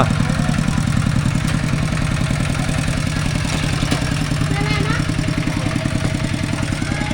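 A farm tractor engine runs steadily close by in a rural Thai village, a loud, even, rapid chugging clatter that holds without a break.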